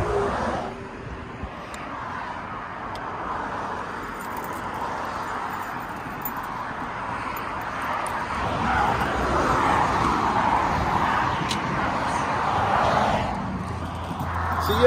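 Steady traffic noise from a roadway, cars passing at moderate distance as a continuous wash that swells toward the end, with faint voices at times.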